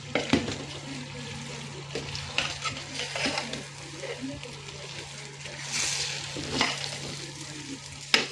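Biryani frying in a pot in a village home kitchen, stirred with irregular scraping strokes over a steady close sizzle, with faint talk in the background.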